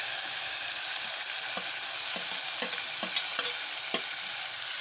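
Garlic and tomato sizzle steadily in hot oil for palak sambar, a constant bright frying hiss broken by soft scattered stirring taps, close and alone with no voices.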